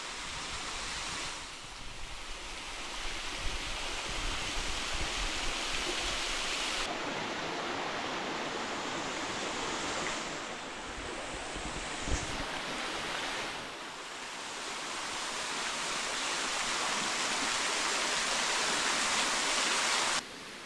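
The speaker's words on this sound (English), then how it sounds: "Well, we made it to the bottom of the waterfall." Rushing waterfall at the bottom of a slippery hiking trail, a steady broadband roar of falling water that swells and dips slightly, loud and close throughout with no talk.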